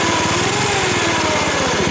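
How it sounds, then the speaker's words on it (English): A small go-kart engine roars steadily at high revs, loud and close, with a buzzy rattling drone throughout. "revving it up ain't going to help it get there"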